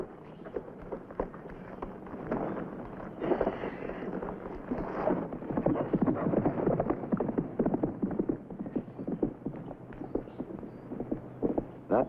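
Horse hooves clip-clop at a steady walking pace on the ground, a faint, continuous run of soft knocks in an outdoor Western scene.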